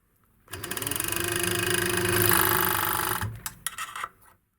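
A sewing machine runs steadily for nearly three seconds stitching a skirt, a continuous close, fairly loud hum and rattle, followed by a few short taps and clicks as it stops.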